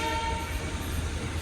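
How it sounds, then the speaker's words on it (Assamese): A very long train passes at night with a continuous loud rumble of wagons, and a sustained horn tone briefly sounds over the steady roar, all close by. "আৰু ইমান দীঘল ট্ৰেইনখন ক'ৰ পৰা লৈ আহিছে"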